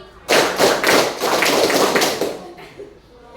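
Senior high school students in a classroom at SMAN 1 Muara Pinang perform a rhythmic clapping game: about eight crisp, loud group claps in a steady beat, then a quick fade into a quieter room.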